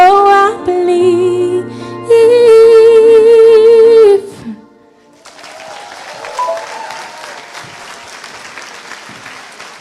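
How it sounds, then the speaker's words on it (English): Audience applause at the WFCP–CCCJ World Congress 2024, a broadband wash of clapping that starts midway after sustained music and holds steady and fairly loud to the end. "Another round of applause for Renisha"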